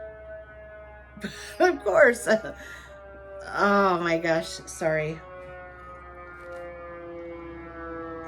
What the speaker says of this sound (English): sorry for that siren